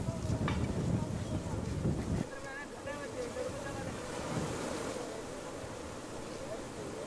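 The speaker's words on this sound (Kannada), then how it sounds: "ತುಂಗಭದ್ರಾ ನದಿ ಮೈದುಂಬಿ ಹರಿತಾ ಇರುವಂಥದ್ದು ನಾವು ದೃಶ್ಯ ನೋಡೋದಾಗಿದೆ" Tungabhadra river in full spate after heavy monsoon rain, a broad steady rush of water with gusty wind buffeting the microphone, louder for the first couple of seconds and then settling into a constant roar, with no one talking.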